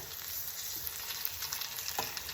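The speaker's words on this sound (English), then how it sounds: "I'm just going to fry these up with the onions." Pierogis frying with onions in a pan, a steady close sizzle and crackle that holds evenly throughout with a few small pops, no voices.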